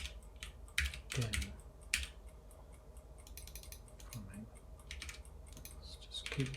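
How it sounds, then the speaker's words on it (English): Computer keyboard typing during a Swift live coding session, a steady run of quiet, close key clicks with brief pauses and occasional louder taps. "let's just keep typing."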